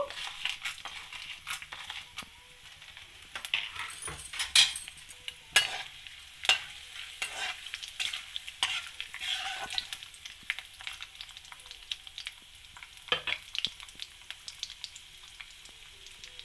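Dried red chillies, mustard seeds, cumin and chana dal frying in oil as a tempering for tomato pachadi, a quiet close sizzle broken by scattered pops, crackles and spoon scrapes, with no talking.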